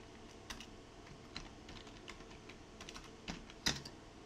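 Keys are typed on a computer keyboard while working in Excel on a Mac. The keystrokes are sparse, faint and irregular, with a few louder taps over a quiet background.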